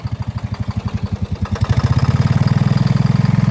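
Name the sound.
tractor engine idling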